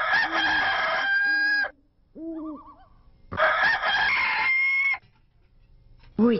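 Rooster crowing: two loud, close, drawn-out cock-a-doodle-doo calls with softer clucking between them and the start of a third crow at the end, no talking.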